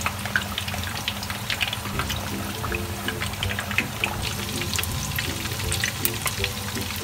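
Hot oil poured over stuffed tofu, a steady crackling sizzle with bright popping bursts over a low bubbling, continuous and close for several seconds with no voices.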